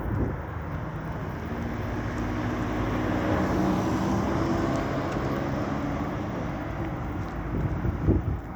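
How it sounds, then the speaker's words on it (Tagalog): Continuous wind buffeting and rushing past, a steady broadband roar that swells in the middle, with a distant low drone underneath. "Malamig tapos mahangin pati."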